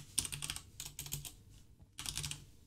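Quiet typing on a computer keyboard, with clusters of soft, rapid key clicks separated by brief pauses.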